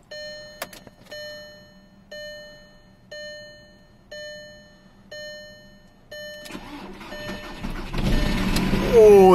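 A diesel car left four days in sub-zero cold: a regular chiming warning tone repeats about every second, then the starter cranks and the engine catches into a loud, rough, rising idle that keeps running.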